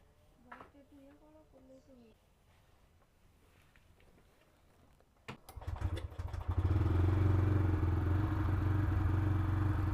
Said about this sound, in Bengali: তো বন্ধুরা বাইকটা স্টার্ট দিয়ে দিলাম